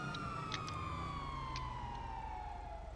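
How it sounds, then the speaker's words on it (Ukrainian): A police car siren sounds in GTA 5, a steady electronic wail sliding slowly downward in pitch over a constant low engine drone, fairly loud and close, with a few faint clicks and no talking. "у мене тепер поліцейська машина"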